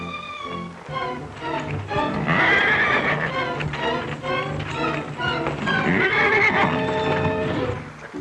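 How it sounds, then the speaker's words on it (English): A horse whinnies loudly several times, with hooves clip-clopping and shuffling close by between the neighs. "That horse is wild."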